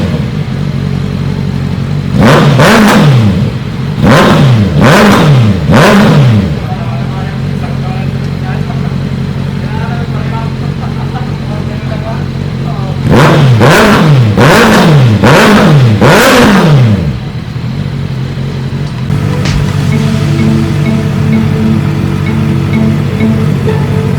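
A 2021 Honda CB650R with a Jomar spiral exhaust revs up close and loud in two bursts of several sharp rising and falling blips, idling in between, with people talking over the engine.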